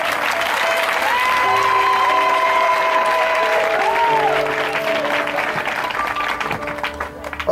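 A church congregation at a Sunday revival service applauds and cheers for the Holy Spirit. The clapping is steady and sustained, with held musical tones beneath it, and it thins out near the end.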